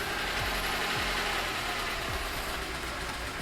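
A VAZ 2107 engine idles steadily with all electrical loads switched on, including the lights and heater, its revs sagging to a low, even rumble with faint periodic knocks, close and continuous with no talk.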